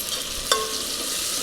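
Okra pieces are stirred into salted tomatoes in a frying pan, with a continuous sizzle and a single brief scrape of the spoon against the pan.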